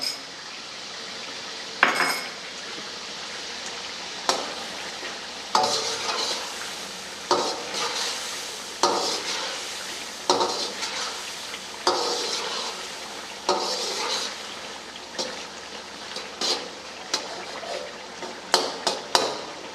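A spoon stirs chicken karahi with tomatoes and ginger-garlic paste in a pan, scraping and clinking in irregular strokes over a soft, constant sizzle.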